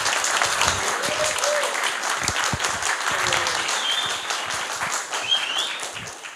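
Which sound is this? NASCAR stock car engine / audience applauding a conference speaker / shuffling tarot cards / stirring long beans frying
audience applauding a conference speaker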